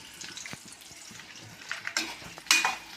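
Onions sauté in a pan as they are stirred, producing a close hiss with scattered scraping strokes and a few louder bursts of sizzle near the end.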